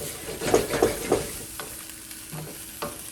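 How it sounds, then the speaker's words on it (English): Wagyu beef and broccoli stir-fried in a pan, with several close scraping stirs in the first second and then a few lighter, scattered clinks and scrapes over a faint sizzle. "I'm gonna stir fry that just for like 10 seconds to kind of coat everything I can."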